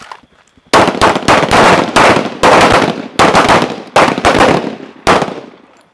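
Pistols fire on a shooting range at night, with several rapid, loud volleys of overlapping shots cracking in quick succession and separated by brief gaps.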